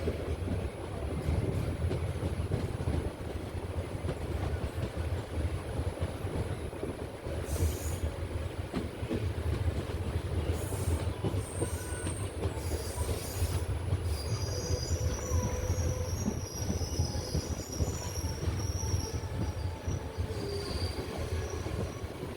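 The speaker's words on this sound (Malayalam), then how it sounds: "നാഗർകോവിൽ ജംഗ്ഷൻ റെയിൽവേ സ്റ്റേഷനിലേക്ക് ട്രെയിൻ അങ്ങനെ എത്തിയിരിക്കുകയാണ്" A train rolls into Nagercoil Junction railway station, its wagons producing a loud, steady rumble and rattle close by, with sharp wheel squeals rising repeatedly over it as it slows.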